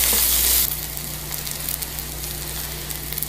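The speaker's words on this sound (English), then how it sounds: "Just get your onions sweated out a little." Onions sweat in a pan with a steady, soft sizzle and hiss; a louder burst at the start quickly settles into a constant frying crackle, with no voices.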